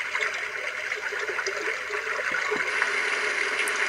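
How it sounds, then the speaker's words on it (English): A babbling stream setting plays from a Medisana WL444 wake-up light, a steady bright wash of trickling, gurgling water with faint bubbly pops throughout, no voices. "The babbling stream."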